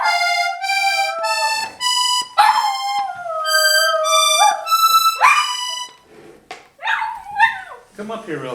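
A pet dog howls loudly with long, wavering, sliding cries alongside bright accordion notes from a Hohner Corso diatonic tremolo accordion playing scales, then yips and whimpers briefly near the end.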